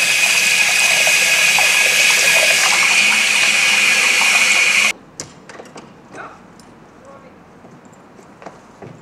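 Warm tap water runs steadily and loudly over hands at a sink for about five seconds, then cuts off abruptly, leaving quiet room sounds with faint clatters.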